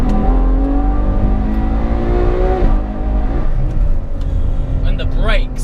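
A Ferrari sports car revs and accelerates steadily up through its range on a mountain road, loud and close, with a gear change midway and a voice over the top near the end.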